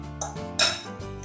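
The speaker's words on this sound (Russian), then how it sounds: "Хорошенечко все перемешиваю до однородной массы." Ground meat seasoned with salt, black pepper and ground garlic is stirred in a bowl, giving a few close clinks and scrapes of a utensil against the dish with short soft gaps between them.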